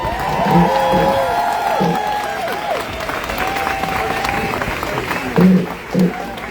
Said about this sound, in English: A big round of applause for Zaina, everybody.